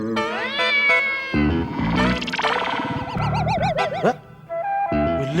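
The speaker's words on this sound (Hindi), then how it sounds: "बिल्ली की आवाज बेडरूम में से भी आ रही है, यहाँ से भी आ रही है।" Several overlapping cat meows and wavering, caterwaul-like cries fill a home interior in a comedy-show scene, loud and continuous with bouncy, effect-like pitch swoops and no clear speech.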